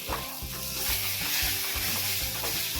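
Lentil paste with tomato frying in a pan while being stirred, a steady close sizzle broken by repeated scraping strokes of the spoon, with no talking.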